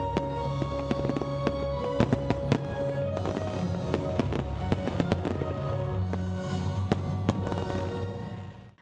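Fireworks boom and crackle continuously at a floating Christmas tree launch ceremony, with dense, overlapping bangs and layered tonal whistles that persist throughout before cutting off at the end.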